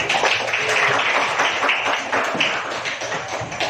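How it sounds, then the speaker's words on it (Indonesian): A classroom group applauds a student named Agung, giving a few seconds of dense, close clapping with sharp individual claps throughout. "Beri tepuk tangan kepada Agung"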